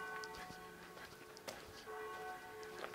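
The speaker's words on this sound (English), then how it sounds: "You can hear the church bells tolling." Church bells toll at noon beside a building site where a forge wall is being removed, their faint ringing tones sustained under scattered clanks and background activity.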